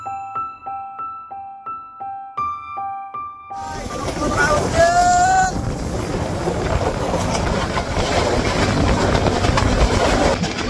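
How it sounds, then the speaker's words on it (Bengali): At Chandpur railway station, a train rumbles loudly and steadily with a brief high squeal of brakes or wheels, after an opening melodic chime of station announcement tones. "আমরা চলে আসলাম চাঁদপুর রেল স্টেশন, ট্রেনের জন্য অপেক্ষা করতেছি।"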